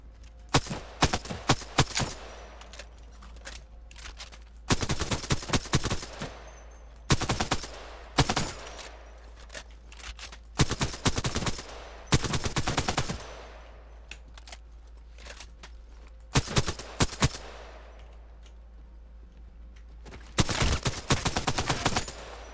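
Rapid bursts of automatic gunfire from an Apex Legends weapon, fired in repeated sharp volleys of a second or two each, separated by short quiet gaps, loud and close throughout.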